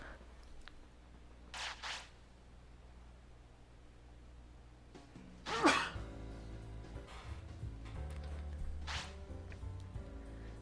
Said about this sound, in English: Yeah, I gotta sneeze.